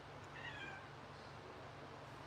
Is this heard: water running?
no